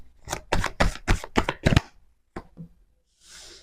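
A deck of tarot cards being shuffled by hand, a rapid run of crisp riffling bursts followed by a pause, a couple of softer taps and a brief airy rustle, close and clear.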